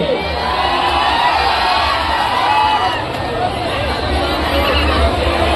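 A large outdoor stage show crowd in Muzaffarpur cheers, whoops and shouts continuously, with children's voices and babble mixed into a loud, steady roar under a low hum.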